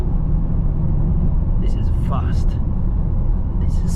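A 2021 Range Rover Sport with a supercharged V8 at full throttle roars with a loud, steady low rumble that runs through the whole stretch, with brief voices and small chirps over it.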